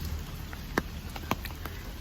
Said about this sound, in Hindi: अब बारिश आ गई